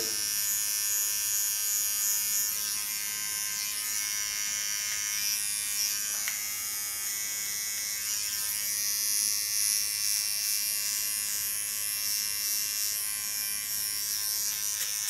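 Small electric hair clipper with a ceramic blade cutting hair, a continuous high-pitched buzz with slight variations as the blade moves, close and steady with no talking.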